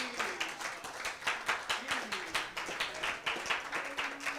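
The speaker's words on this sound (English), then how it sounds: "Would you clap your hands one more time before you're seated?" A church congregation claps in unison, a steady rhythmic series of sharp hand claps at a brisk even pace, with a faint voice underneath.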